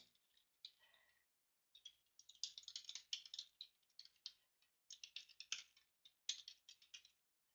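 Fingers type on a computer keyboard up close, with quick bursts of crisp key clicks separated by short pauses, clear and alone with no talking.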